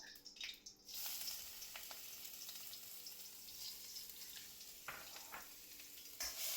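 Chopped ginger and garlic fry in hot oil in a wok for chowmein, a soft, steady sizzle with a few light clicks and scrapes of stirring, faint and without talk.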